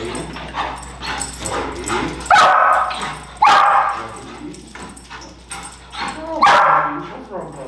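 A dog barks in sharp loud bursts and yips and whimpers in between, close by, during a calming and corrections training session, with someone talking over it.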